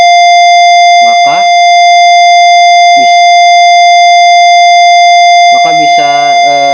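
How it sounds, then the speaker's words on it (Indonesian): An IoT buzzer alarm sounds as a continuous, loud, steady electronic tone throughout, with a person speaking briefly over it at intervals. "buzzer dan notifikasi dalam keadaan nonaktif. Di sini kita aktifkan,"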